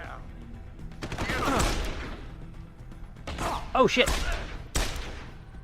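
Gunfire in the Deus Ex: Human Revolution video game comes as bursts of loud, close shots with crashes and whooshes, separated by short gaps, while someone talks over the action.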